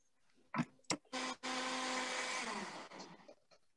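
A few short bursts of a kitchen blender, then a loud sustained whir for about two seconds that winds down and stops.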